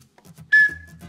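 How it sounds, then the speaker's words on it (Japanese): A whistle from an emergency preparedness kit gives one short, sharp, bright blast, loud and close, standing alone after a moment of quiet. "ホイッスル"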